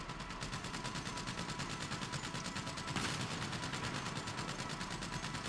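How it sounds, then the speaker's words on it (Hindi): Rapid automatic gunfire from a GTA Online firefight, a dense steady rattle of repeated shots running throughout with a louder burst near the middle. "छोटी छोटी सी गोलियां आ रही हैं"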